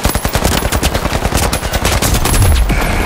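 Loud, rapid pistol fire in Valorant, a dense run of quick, evenly spaced shots packed close together across the whole short stretch, with no voices over it.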